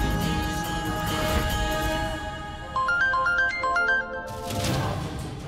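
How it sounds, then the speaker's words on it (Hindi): A mobile phone ringtone plays a repeating melodic pattern for a couple of seconds, clear and fairly close, over a quiet indoor background. "दीदी फोन उठाओ।"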